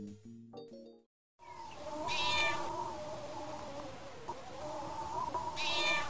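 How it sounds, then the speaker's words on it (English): Cartoon cat meowing repeatedly in a point-and-click adventure game, several drawn-out meows over a steady background of game music and ambience, after a short burst of jingle notes. "It's a cat!"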